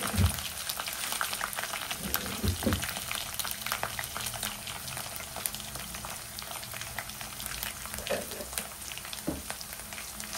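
Curry leaves and ginger garlic paste fry in hot oil for atukula poha, a steady close sizzle and bubbling with occasional stirring scrapes and no speech.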